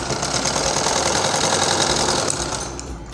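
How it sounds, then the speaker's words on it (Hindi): A sewing machine runs at a fast, steady clatter while stitching along the folded neck strip of a plain blouse, loud and close, ending with a slight drop in pace near the end, with no speech. "यहाँ इसके ऊपर हम सिलाई लगाते हुए पूरे गले की पट्टी पर सिलाई लगा देंगे।"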